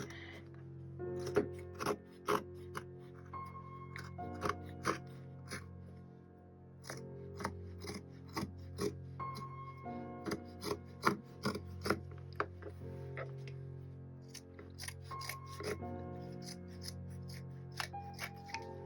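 Scissors cut a strip of fabric for a snippet roll: a steady series of sharp snips and rasps, close up, over a quiet tonal background hum.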